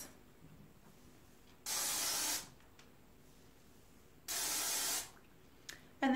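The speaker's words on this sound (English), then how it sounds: "Spray onto the roots and the mid length." Two separate bursts of hair volume spray aimed at the roots, each a bright aerosol hiss lasting under a second, with quiet pauses between and a short third spritz at the end.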